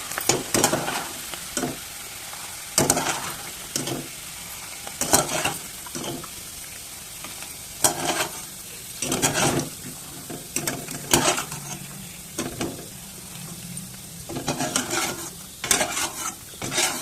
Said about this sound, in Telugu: బాగా వేయించుకోండి. ఇలా కలర్ చేంజ్ అయిన తర్వాత మొత్తం తీసేసుకోండి.